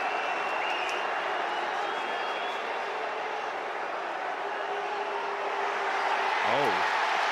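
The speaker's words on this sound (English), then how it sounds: "The fans at TCU are cheering." Stadium crowd of TCU fans cheering at a college football game against SMU, a steady loud roar of many voices filling the whole stretch, swelling slightly near the end.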